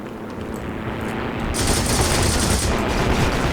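Rapid sustained gunfire from the Noob Cannon gun in the Heroes & Generals video game, a dense continuous burst that gets louder partway through and keeps going to the end.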